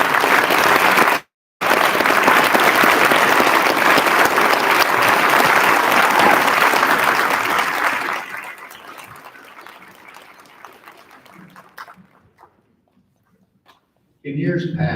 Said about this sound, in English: And now everyone will give them a big hand of applause.